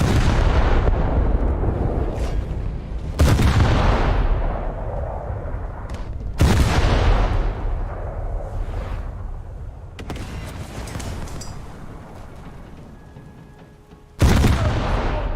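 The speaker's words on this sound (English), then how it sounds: "Let's wait for the lead indicator to appear before firing the main guns." Heavy warship main gun salvos in a naval combat video game, four loud booming blasts spaced a few seconds apart, each with a long rumbling decay and a steady low background drone between them.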